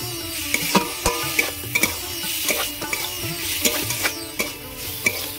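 Small pieces of chicken sizzle and fry in a pan while a utensil stirs them, with repeated sharp metallic scrapes and clinks against the pan over a steady frying hiss, with no talking.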